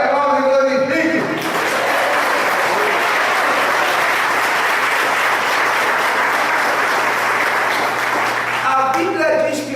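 A church congregation at a miracle crusade service breaks into sustained, loud applause that swells quickly after a voice and holds as a dense wall of clapping before a voice returns at the very end.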